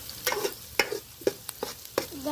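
Curry leaves frying in a pan for potato kurma, heard as a soft sizzle broken by about five sharp stirring scrapes spaced roughly half a second apart, close and fairly quiet, with no voices.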